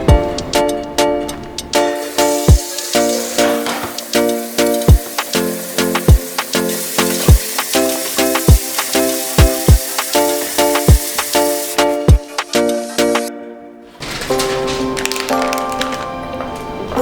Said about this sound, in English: Making some sausages for breakfast